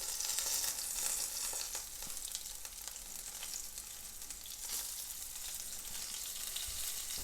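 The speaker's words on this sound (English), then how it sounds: "we'll just monitor our heat, and again, it's just a quick shallow fry, nothing more" Oysters shallow-fry in a hot pan, giving a dense, even sizzle that crackles steadily up close for several seconds without any speech.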